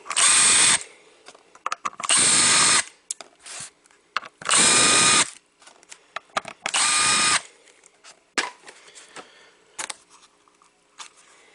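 A power driver backs out number 10 Torx screws from a GM wireless charging module in four loud whirring bursts, each about a second long, separated by clicks and handling noises.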